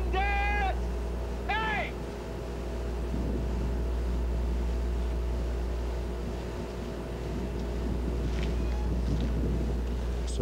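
Wind buffets the microphone with a constant low rumble on a sunny, windy day at an outdoor military ceremony, broken early by a couple of sheep bleats.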